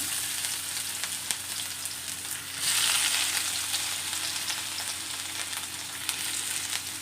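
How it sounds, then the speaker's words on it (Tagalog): Ginger sautéing in hot oil in a pan gives a steady close sizzle, rising briefly into a louder, brighter burst, then settling back to a constant crackling hiss with no talk. "Una nating igisa ay ginger."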